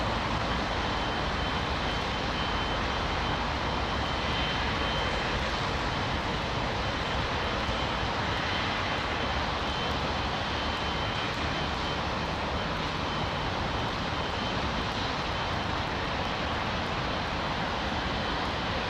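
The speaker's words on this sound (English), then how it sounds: "Emirates 777 on its way out." An Emirates Boeing 777 taxiing out at London Heathrow, a steady broadband roar of jet engines that holds constant and loud throughout, without pauses and with no voices.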